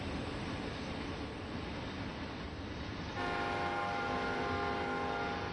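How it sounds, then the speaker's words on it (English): American train horn in Train Sim World 3, a loud sustained chord that blasts in a little past halfway and holds to the end over a steady rumble of rail and engine noise, with no talking. "it's like you can hear the horn 5 miles away"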